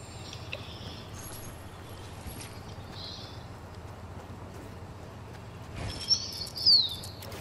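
Birds chirp in the Fortnite video game, a few faint high tweets scattered over quiet ambient game sound, with a brighter cluster of calls near the end.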